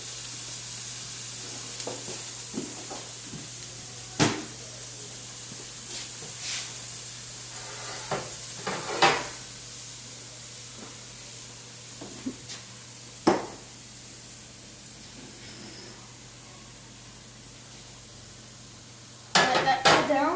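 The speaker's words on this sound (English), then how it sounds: "Then I will get out a spatula, mix them around just a little bit." Omelet eggs mixed in a hot pan with a spatula, a soft sizzle beneath scattered clinks and scrapes of the utensil against the pan, with a louder clatter near the end.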